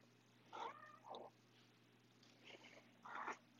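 A pet cat meows softly several times during a quiet yoga session, the short calls faint and close with low background hum.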